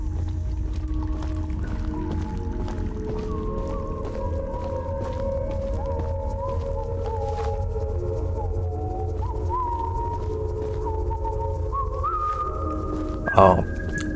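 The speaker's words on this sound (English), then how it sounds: "Someone's whistling." Someone whistles a slow, wandering tune with rising and falling notes over a low rumbling ambience in the video game Choo Choo Charles, ending with a brief sharp noise.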